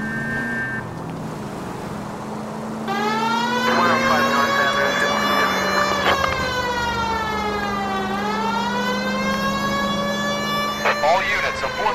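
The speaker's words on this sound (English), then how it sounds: "Why don't you use the siren?" A police car siren in L.A. Noire wails loudly and continuously in rising and falling sweeps over a running car engine, with brief talk at the start.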